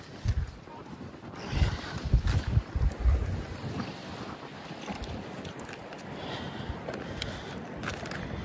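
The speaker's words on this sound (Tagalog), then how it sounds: "Lumakas ng hangin." Strong wind gusts across a microphone on a boat at sea, loud rumbling buffets at first that settle into a steady rushing roar, with water noise underneath and no speech.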